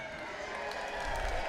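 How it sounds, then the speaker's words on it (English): Crowd at an Eternal MMA bantamweight fight cheering and applauding in the arena, a steady, full roar heard from a distance with a commentator talking over it. "But listen to this crowd"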